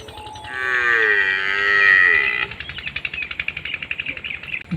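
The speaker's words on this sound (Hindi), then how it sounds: "भैंस का कट्टा जो है ना बुला रहा है, पता नहीं किसको बुला रहा है।" Buffalo calf calling on a Pakistani family farm, a long drawn-out bleating moo that rises and then breaks off, followed by a soft rapid rustling or chattering rhythm nearby.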